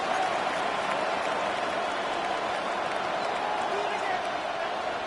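Stadium crowd at a Bengals football game building up before a big third down, a steady wash of cheering and noise from a large crowd, continuous and moderately distant.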